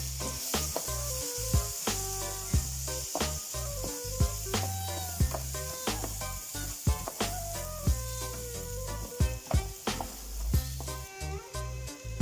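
Rice being sautéed in a pan for Turkish pilaf: a steady close-up sizzle with frequent scraping and clicking stirring strokes throughout, no talking.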